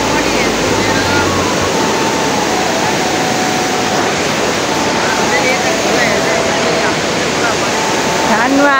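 A flooded river in Letang Municipality, Nepal, rushes beneath a suspension footbridge, making a loud, steady, close roar of churning water that runs unbroken from start to finish.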